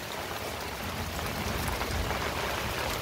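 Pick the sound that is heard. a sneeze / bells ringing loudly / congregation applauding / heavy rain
heavy rain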